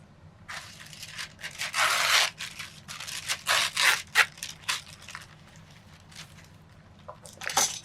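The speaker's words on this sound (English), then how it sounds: "Let's go ahead and rip this." Paper is ripped by hand for a collage in several close, crackly tearing bursts of varying length, the loudest near the middle, with quieter handling rustles between them and no talking.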